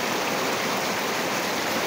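Water running hard and steadily while a 1999 first-generation Honda CR-V is washed, a close, dense hiss of spray with no voices.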